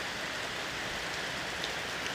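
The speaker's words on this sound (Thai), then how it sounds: "เริ่มมีเสียงฟ้าคำราม ถ้าโบราณก็บอกว่าฟ้าคำราม ฟ้าร้อง ฝนจะหยุด" Night rain falls steadily in a dense, even hiss of drops on surfaces, with no distinct thunder and no voices.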